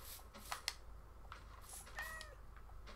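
A cat meows a few times in the Minecraft video game, short faint game calls with a brief rising chirp near the end, alone without talk over quiet background.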